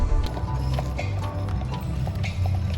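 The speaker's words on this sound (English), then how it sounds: "Oh, I see some horses." Horses walking at an outdoor Western Days event by Lake Tahoe, steady hoof clip-clops over a loud low rumble of engines or crowd, with a faint whinny.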